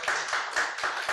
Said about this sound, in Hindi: तालियां दीजिए, शुक्रिया शुक्रिया